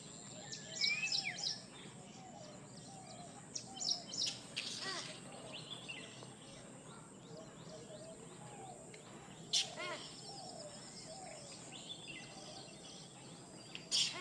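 Birds calling and chirping around a lake near Mysore, with several short bursts of calls scattered over steady outdoor ambience; the calls sound moderately distant.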